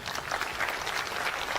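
Applause rolls steadily through a stand-up comedy set at an Indonesian anniversary celebration in Manado, a dense, continuous patter of many hands at moderate loudness with no voice on top.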